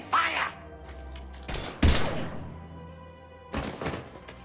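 A few scattered gunshots in Mass Effect 3, sharp loud bursts separated by pauses, with a voice talking briefly at the start.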